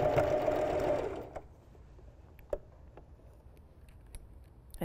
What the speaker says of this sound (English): Go a little bit slower when you're stitching through all the thicknesses there.